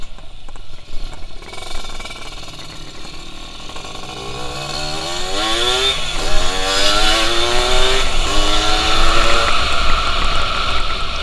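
A Suzuki Satria RU 120 two-stroke motorcycle on a test ride, its engine loud and close, revving up through the gears in repeated rising, buzzy sweeps over steady wind noise.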